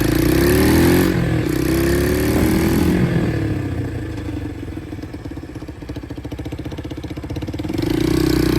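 Motorcycle rolling through a licence exam course in Seyhan, Adana, with the engine note steady and close, a fluttering mid-range drone that dips slightly in the middle and swells again toward the end.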